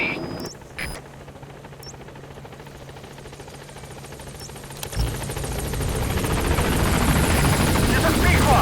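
The B-Quad helicopter in Metal Gear Solid 5 approaching a landing zone, rotor noise building steadily from a faint hum to a loud roaring wash over several seconds, with a few brief clicks early on.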